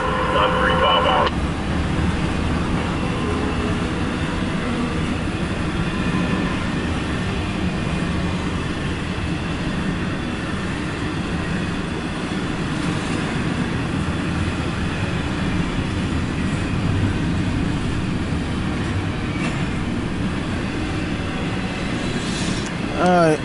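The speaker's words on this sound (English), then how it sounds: "CSX Q032-19 Intermodal" CSX Q032-19 intermodal freight train passing at Tanglewood, a steady rumbling roll of wheels and cars that holds evenly for the whole stretch, fairly loud, with no voices over it.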